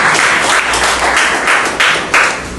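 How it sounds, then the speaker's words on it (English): Audience applause in a training-session room, a fairly loud burst of clapping from a modest group, with uneven surges and a few sharp, distinct claps near the end. "Give a round of applause, please."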